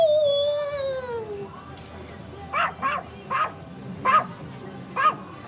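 Dogs let out a long, falling howl, then bark in a string of five sharp, fairly close yips and woofs with brief gaps between them, all in a sitcom scene.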